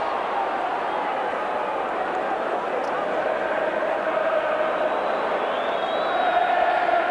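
A rugby league stadium crowd at a Wigan v Bradford cup semi-final cheers a strong run, a broad sustained roar that swells slightly toward the end, heard from a distance.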